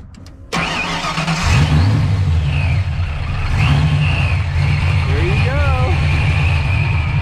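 A supercharged Reef Blue 1990s Ford Mustang notchback coupe with a Vortech blower fires up abruptly after a short quiet moment, then holds a loud, steady, close idle rumble with a light whine above it.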